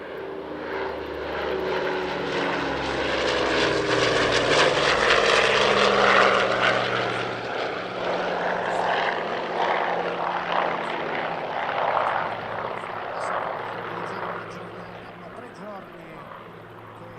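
A vintage propeller aircraft of a type first flown in 1946 flies past at an Italian Air Force centenary airshow, a loud droning engine that swells and fades steadily, with a voice talking over it.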